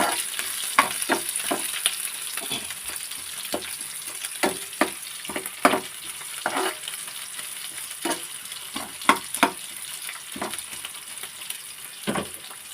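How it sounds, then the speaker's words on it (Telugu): Dry red chillies and onion sizzle in a pan for a spicy bitter gourd curry, a steady crackling hiss broken by frequent sharp pops and stirring clatters, with no talking. "అలాగే ఎండు మిరపకాయలు ఆనియన్ బాగా మాగనిద్దాం"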